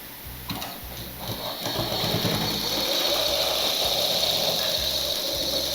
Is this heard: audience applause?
no